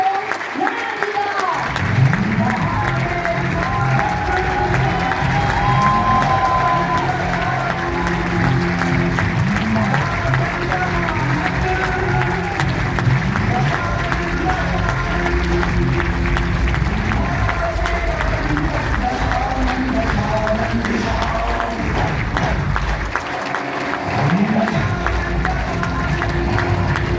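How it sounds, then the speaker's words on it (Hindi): Loud, sustained applause from a large audience welcomes the actor Ashutosh Rana onto the stage at a live event, dense continuous clapping with crowd noise that holds steady for the whole stretch. "जोरदार तालियों से स्वागत कीजिए रावण की भूमिका को नया आयाम देने वाले प्रसिद्ध अभिनेता श्री आशुतोष राणा जी का"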